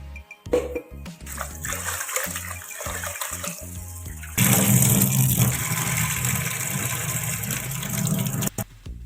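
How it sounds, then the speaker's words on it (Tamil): Water salted with rock salt rolls at a boil in a pot on a stove, giving a steady, rushing bubbling that grows fuller partway through, close and without talk. "தண்ணி நல்லா கொதிக்குது"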